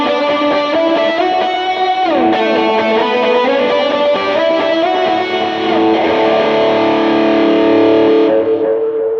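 Overdriven electric guitar lead with a dotted eighth note delay and plate reverb, sustained sliding melody notes over a rhythm bed, repeats trailing behind each phrase, loud and continuous before fading out.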